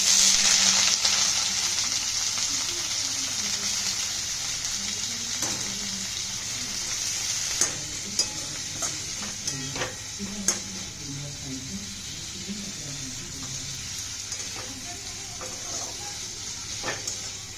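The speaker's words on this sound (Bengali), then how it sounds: "পেঁয়াজটাকে হালকা ব্রাউন ভেজে নিয়েছি" Onions frying in oil in a pan for a paneer Manchurian, a bright steady sizzle with scattered stirring clicks and knocks of a spoon, close and fairly loud, no speech.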